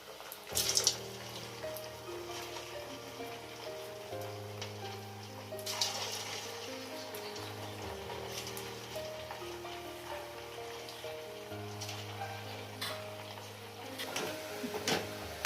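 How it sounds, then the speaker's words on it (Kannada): Small pieces of idli deep frying in hot oil for idli manchurian, giving a steady close bubbling sizzle with crackling bursts throughout, no talk. "ಇಷ್ಟು ಚಿಕ್ಕದಾಗಿ ಹಿಂಗೆ ಹಾಕ್ಕೊಂಡು ಡೀಪ್ ಫ್ರೈ ಮಾಡ್ಕೋಬೇಕು."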